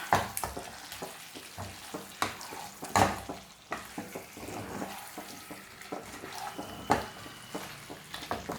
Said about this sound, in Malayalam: അതിനുശേഷം നമുക്ക് നന്നായിട്ടൊന്നും കൂടി മിക്സ് ചെയ്ത് കൊടുക്കാം